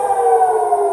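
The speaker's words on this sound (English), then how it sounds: "Sirens just went off. I should be running to the shelter right now." An air raid siren wails over Jerusalem, a loud, steady sustained tone that holds without a break and carries no speech over it.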